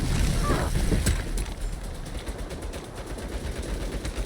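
Turret gunfire in the action game Saints Row (2022) chatters in a dense, rapid burst at the start, then thins into scattered shots over a constant rumbling bed of game noise.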